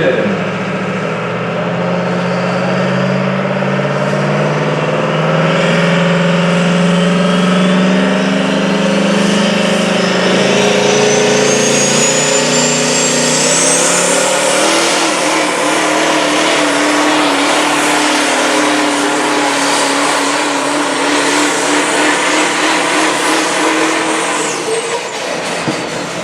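The Duramax diesel pulling truck "Old Blue" from Zeeland, Michigan, built to 1,000 horsepower, roars loud and sustained through a sled pull at an Outlaw Diesel Super Series event, its engine pitch climbing and holding under a continuous turbo whistle.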